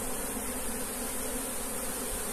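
Africanized honeybees from a captured swarm in a bucket hive give a steady, dense buzzing drone that holds throughout at an even, moderate level, with no voices.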